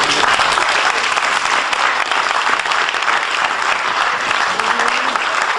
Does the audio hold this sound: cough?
no